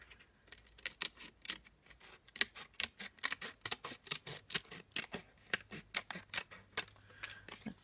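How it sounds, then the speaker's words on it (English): Scissors snip through paper for a craft journal in a quiet room, making a long string of crisp, irregular cuts. The snips are close but soft, with no talk. "Yeah, so I need to cut it here,"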